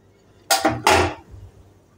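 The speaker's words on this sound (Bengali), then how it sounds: "এবার ঢাকনা চাপা দিয়ে দিলাম" A metal lid set onto a cooking pan of poppy-seed ridge gourd curry gives two quick clanks, a sharp clatter followed by a fuller settling clang, then a brief fading ring in a quiet kitchen.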